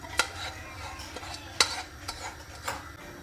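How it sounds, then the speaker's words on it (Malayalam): Soaked rice is mixed into a Tamil Nadu-style mutton biryani in a pot, with soft stirring scrapes and a few sharp clinks of the spoon against the pot, near and moderately quiet. "എന്നിട്ട് എല്ലാം കൂടി നല്ലപോലെ ഒന്ന് മിക്സ് ചെയ്ത് കൊടുക്കുക"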